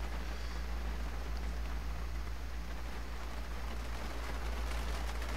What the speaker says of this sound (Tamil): இந்த சவுண்டு மழை பெய்கிற சவுண்டு, அது என்னென்னா வந்து ரியலிஸ்டிக் ரெயின் மாட் வந்து இன்ஸ்டால் பண்ணியிருக்கேன்